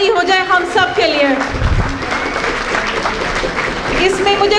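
An audience at a celebration event gives a round of applause, moderate clapping mixed with a host's voice and some music, rising and falling over a few seconds.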